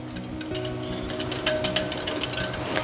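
Rapid clattering and scraping of a whisk beating curd in a bowl, a steady busy rhythm with sharper clicks in the second half, no talking.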